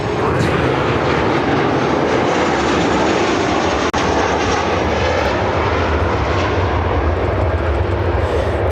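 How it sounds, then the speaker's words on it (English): An American Airlines Boeing 737-800 in TWA retro livery, arriving at Chicago O'Hare from Albuquerque, passes with a loud, close jet roar and dense rushing noise, unbroken apart from one brief dip midway. "This is American Airlines 1328 coming in from Albuquerque, New Mexico on a 737-800 in the TWA retro livery."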